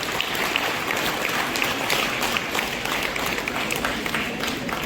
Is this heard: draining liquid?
no